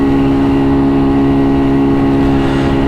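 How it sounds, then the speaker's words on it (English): A 50cc scooter's small engine drones steadily at close range alongside a Daytona Hobby 50 motorcycle in city traffic, with a loud continuous buzz and no speech. "we're getting passed by a 50cc scooter"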